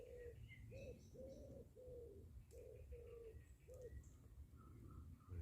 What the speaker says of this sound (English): Wood pigeon in the tree above me.